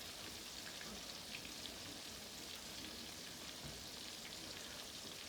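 Shrimp frying in hot oil give off a steady, dense sizzle with fine crackling, close and even throughout, with no one talking.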